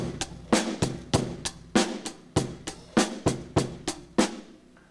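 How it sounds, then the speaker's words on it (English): A live rock beat has the snare on two and four and the bass drum on one and three under steady cymbal hits, with guitar and keyboards, playing as a steady, loud groove. "I'll be using the snare on 2 and 4, and I'll be using the bass drum on 1 and 3."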